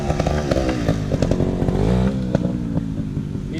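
A 250 dirt bike engine revs hard and continuously up close, a loud raspy drone rising and falling as the rider builds speed to jump a pipe.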